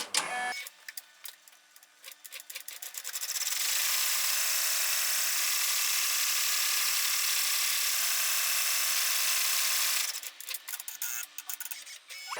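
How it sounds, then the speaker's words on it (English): An embroidery machine stitches out the final step of an in-the-hoop embroidered note and photo holder, running as a steady, loud, high-pitched whir for several seconds. Short mechanical ticks and clicks come before and after the run. "so we'll stitch out the last step."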